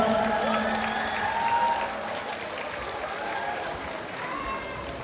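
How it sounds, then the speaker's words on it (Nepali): A crowd applauds at a Darjeeling celebration of the Dalai Lama's 90th birthday. The clapping is dense and steady throughout, a little louder at first, with some voices faintly mixed in. "जोरदार तालीको साथमा"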